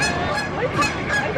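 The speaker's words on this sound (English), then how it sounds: "Looks like some Canadian geese, maybe? Some sort of geese." Several Canada geese honk in an excited, overlapping chorus at Disneyland, fairly close and loud, with steady outdoor background noise underneath.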